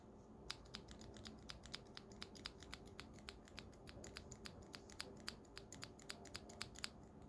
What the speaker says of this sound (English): now starting off with the non-lube switch